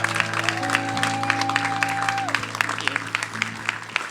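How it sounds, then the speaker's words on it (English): A church congregation applauds a guest preacher, a sustained and lively round of clapping with sharp individual claps over held keyboard tones and faint voices. "So let's just clap for Helen"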